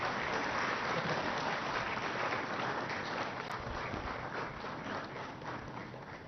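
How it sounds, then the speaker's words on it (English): Applause greets a memento presentation at a guest lecture inaugural ceremony at the High Court of Telangana, a steady wash of many hands clapping, moderately quiet and gradually fading toward the end. "Have a big applause."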